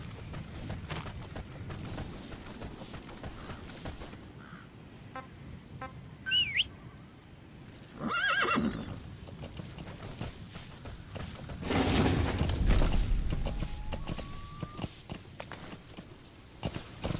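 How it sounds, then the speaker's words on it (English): A horse in Metal Gear Solid V: The Phantom Pain trots with steady clip-clopping hooves and gives a couple of louder snorting or neighing bursts, over an outdoor game ambience with chirping birds. "Use your horse."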